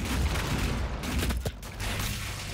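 Muffled gunfire and explosive bursts in a DOOM multiplayer team deathmatch, a steady rumbling barrage of shots at moderate loudness without a break.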